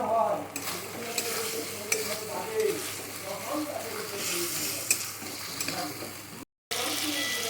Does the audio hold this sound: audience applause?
no